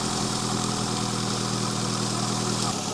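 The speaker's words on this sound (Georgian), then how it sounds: "ეს მანქანა ჩვეულებრივად მუშაობს რა" A car engine running on cooking oil idles steadily and loudly, a constant low rumble with an even mechanical hum that holds without a break and shifts slightly just before the end.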